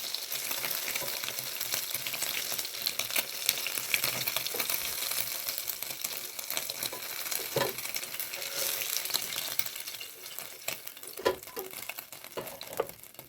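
Cheese spinach rolls fry in oil in a pan over a gas flame, giving a continuous close crackling sizzle with small pops and faint scrapes throughout, and no voices.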